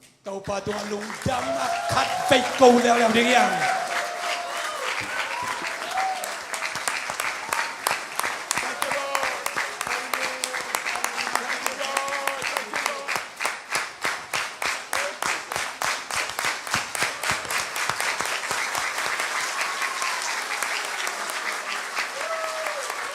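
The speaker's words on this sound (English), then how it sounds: "I don't think I can clap as fast as you clap." Congregation at a church revival service breaking into sustained applause that settles into fast, rhythmic unison clapping, loud and close, with brief voices at the start.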